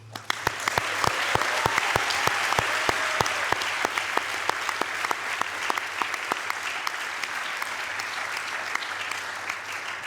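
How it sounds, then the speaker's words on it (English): An audience at an MBA graduation ceremony gives a round of applause, steady crowd clapping with sharp individual claps standing out, sustained for about ten seconds in a large hall with a low hum beneath. "I'd like to take this opportunity to give them a round of applause"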